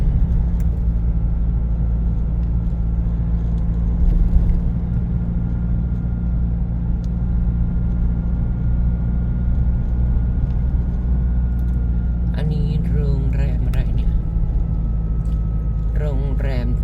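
Inside a car driving on a road leading out of town in Maha Sarakham, Thailand, a constant low road and engine rumble runs throughout, with someone speaking briefly near the end.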